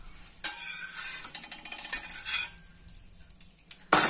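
A utensil clanks and scrapes on a pan while a wheat and ragi rotti is flipped, with sharp metallic knocks at the start and end, lighter scraping in between and a faint sizzle underneath.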